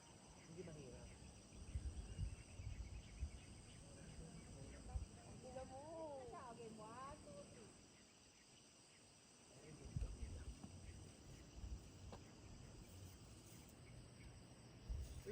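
Crickets chirp steadily in a quiet outdoor night setting, a faint continuous high buzz running throughout under low rustling and other soft wildlife sounds.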